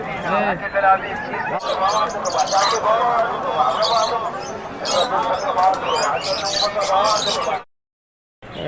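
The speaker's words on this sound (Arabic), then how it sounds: "طيور حلوة" Pigeons and other birds at a bird market in Basra chirp and coo in a dense, continuous mix beneath steady crowd chatter. The sound cuts out abruptly near the end.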